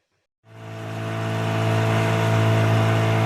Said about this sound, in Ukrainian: У катера є мотор.